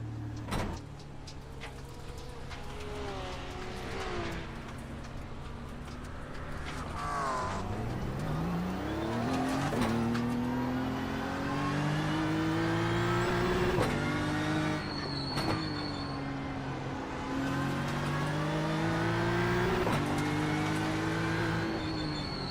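Race car engines in the iRacing video game at Oran Park whine and rise in pitch through gear changes, a steady loud roar of several cars with occasional clunks, no talking.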